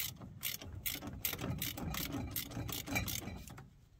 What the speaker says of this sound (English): you loosen it a bit that way, and then you can just spin this off by hand